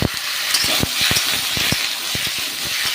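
Vegetables with a pinch of salt sizzle in hot ghee in a pan, a steady frying hiss broken by frequent short crackles and pops, close and fairly loud with no talking.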